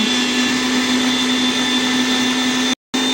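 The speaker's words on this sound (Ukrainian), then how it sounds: "І так поступово перемелюємо всі овочі і печінку." An electric meat grinder runs steadily, mincing vegetables and liver for a homemade chicken-liver pâté, a loud continuous motor whine with a strong tonal hum that cuts out briefly near the end before resuming.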